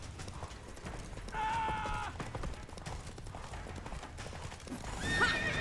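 Roach the horse in The Witcher 3 gives two whinnies, a longer one early and a shorter one near the end, over steady in-game clip-clop hoofbeats and faint clanking gear. No one talks.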